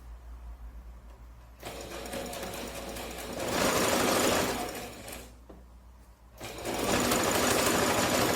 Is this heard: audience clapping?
no